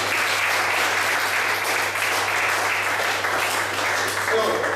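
A seminar group claps together for a participant during a professional development session on communication, a steady, close, fairly loud patter of many hands that continues without a break.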